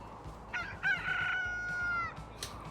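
A rooster in the game Transport Fever 2 crows one clear, drawn-out cock-a-doodle-doo at moderate distance, with a faint low hum running underneath and no speech.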